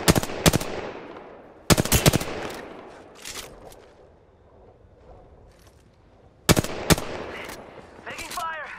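Gunfire in the Apex Legends video game comes in sharp, loud automatic bursts separated by quieter stretches of game ambience, with a final flurry of shots near the end.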